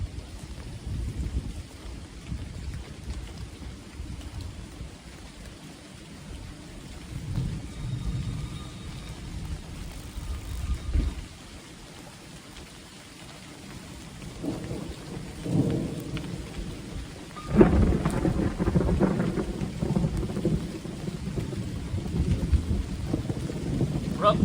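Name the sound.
rain and thunderstorm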